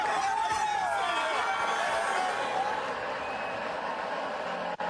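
A large record crowd of more than 68,000 fills a college football stadium at a Georgia vs Ole Miss game, a steady roaring wash of voices and whoops heard at a distance without pause.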